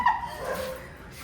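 A dog in a home with a German Shepherd and a Husky gives a short high yip that trails into a thin whining tone, fairly faint and alone.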